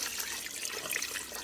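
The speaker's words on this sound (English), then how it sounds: "Now, you don't want to put too much water in, just enough to cover the meat." Water pours steadily into a pot of chicken for GAPS-friendly meat stock, a continuous close splashing rush with no talking.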